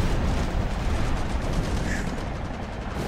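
Dense wartime combat din of anti-aircraft gunfire and bomb blasts around the aircraft carrier Enterprise in the Pacific, a loud continuous roar of crackling shots and booms with no pauses.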